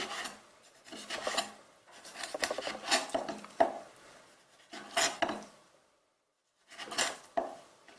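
Knife slicing fish fillet on a cutting board during Chinese cookery exam prep, with repeated close scraping and rasping strokes in short bursts separated by brief pauses.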